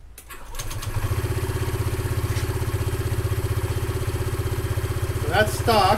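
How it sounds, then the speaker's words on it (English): A Honda ADV 150 scooter with a stock exhaust, variator and intake starts up and settles into a rapid, throbbing idle, close and steady, with a brief rev near the end. "this is what it's going to sound like pretty much with a stock exhaust, with the variator, and an intake"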